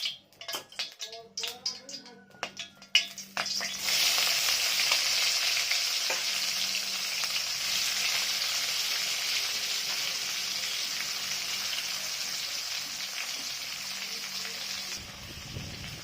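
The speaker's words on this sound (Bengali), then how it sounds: "করলাগুলো আর ভেজে নেবো" Bitter gourd slices hit hot oil in a wok, a few clinks giving way to a loud continuous sizzle that holds steady until cutting off near the end.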